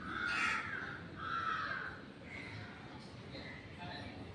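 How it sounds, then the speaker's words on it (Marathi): A crow cawing near a home, several harsh calls repeated at a steady pace, moderately close, with a faint voice and room noise underneath. "एक आहेत की दोन आहे? एकच आहे. तो रोजचाच आहे कावळा."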